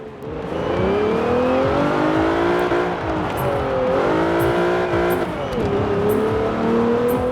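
A 2012 Jeep Wrangler Rubicon with an AWD drift tune in Forza Horizon 4 drives hard. The engine revs up and down through gear changes, with shifting harmonic whine and a faint tire squeal, loud and continuous.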